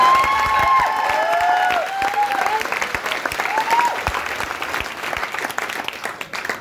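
A workshop training audience in Satna claps in a dense, sustained burst of applause, with a voice speaking over it early on before the clapping thins toward the end.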